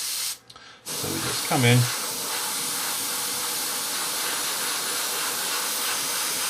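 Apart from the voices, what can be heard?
airbrush spraying paint on a model aircraft nose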